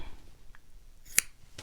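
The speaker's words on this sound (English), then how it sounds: "And then you can cut off the tails." A single crisp snip of scissors cuts felt thread tails on a handmade elf ornament, quiet and close, with a fainter second snip just after.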